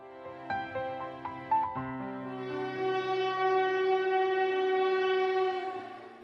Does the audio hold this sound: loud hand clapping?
no